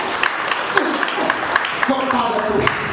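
A church congregation applauds at a worship service, a dense wash of clapping with a voice talking over it throughout.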